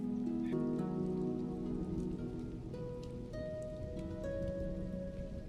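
Soft, steady rain patters on a Himalayan mountain trek in the background while gentle music plays over it.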